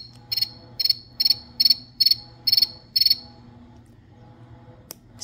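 A prank gadget imitating crickets gives seven evenly spaced bursts of shrill, high trilling chirps, each a rapid cluster of pulses, then falls silent against a faint low hum.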